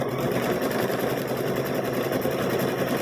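Quilt squares running through a sewing machine, a steady fast motor whir with rapid needle chatter throughout, close and continuous with no talking.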